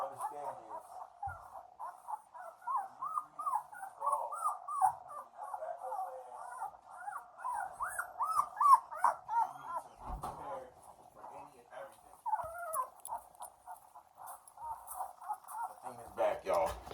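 Several dogs outdoors whine and yelp in high, wavering squeals, mostly steady whimpering with a few sharper cries, while someone talks over it.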